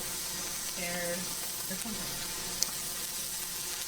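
Beef sears in oil in a hot pan, giving a steady close sizzle and crackle with a brief stir, while a voice talks over it.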